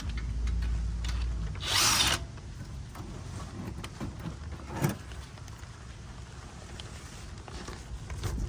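A power tool briefly whirs while undoing a brake caliper bolt on an Acura MDX, a short loud burst followed by a quieter blip amid soft workshop clatter.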